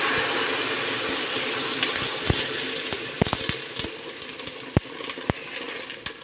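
Running water splashes steadily into a large cooking pot of meatballs, a continuous gushing pour with a few sharp clinks of metal partway through.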